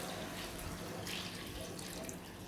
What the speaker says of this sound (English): So now we pour in the water.